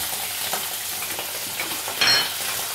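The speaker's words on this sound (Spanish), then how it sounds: "en la sartén ponemos un poco de aceite de oliva, sartén muy fuerte, y echamos el hígado" Lamb liver frying in very hot olive oil in a pan, a dense steady sizzle with brief stirring scrapes and a sharp flare of crackling near the end, close and loud.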